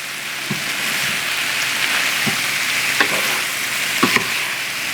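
Sausage and leek fry in a pan while being stirred and mixed together, giving a steady close sizzle with a few sharp spatula scrapes and clinks over it.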